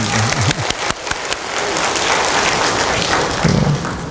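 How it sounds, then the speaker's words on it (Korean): Church congregation applauding, a dense wash of clapping with a few sharper claps near the start, steady and fairly loud, with a faint murmur of voices low underneath. "영광의 박수 올려드릴까요?"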